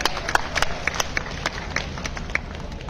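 A crowd at a Delhi political gathering bursts into dense, energetic applause for Kailash Gahlot, rapid overlapping claps sounding close and loud for a few seconds.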